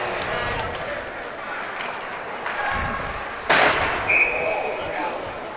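A high school hockey puck cracks off the rink's metal boards in one sharp, loud bang, followed by a smaller knock. Skate scrapes and arena murmur run underneath.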